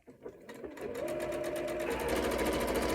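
A sewing machine runs steadily as it stitches across pieces of fabric bunting, a loud, continuous mechanical whir that speeds up and holds a fast, even rhythm, with no voices.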